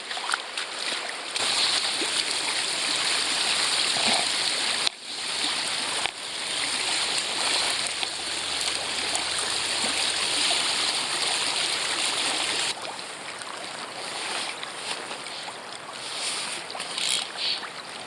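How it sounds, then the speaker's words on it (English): A narrow creek flows steadily on a steelhead fishing stretch, giving a continuous close rush of water that dips briefly near five seconds and eases a little toward the end. "The creek is narrow here."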